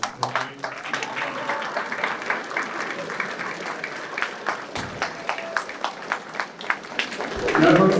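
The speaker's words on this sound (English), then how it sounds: "Can you just turn around and give all these folks a round of applause?" Audience applause at a PACE graduation ceremony, a sustained round of clapping with distinct individual claps standing out, mixed with crowd noise and a voice speaking near the end.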